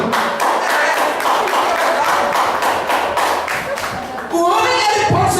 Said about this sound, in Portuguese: Eu quero que os irmãos dêem uma salva de palmas para a mulher